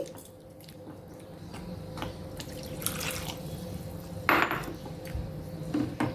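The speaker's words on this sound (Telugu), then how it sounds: "ఇప్పుడు ఈ శనగపిండి నీళ్ళు వేసేసుకుందాం" Thin gram flour water pours into a cooking pan with potatoes, producing a steady, faint liquid trickle with occasional light metallic clinks and a brief louder splash midway.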